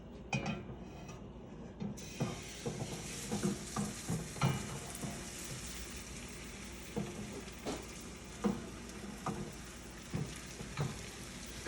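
Thin, swirled pancake batter fries in browned butter in a skillet, giving a soft continuous sizzle punctuated by light clinks and scrapes of a utensil against the pan.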